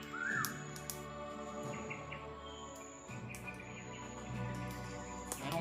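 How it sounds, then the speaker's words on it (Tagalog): A wild bird in the mountains calls with short chirps and tweets over a busy outdoor background of insect buzz and a steady hum, the calls faint and intermittent. "Yan ang ibon ng sa bundok."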